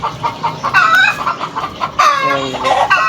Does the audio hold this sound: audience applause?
no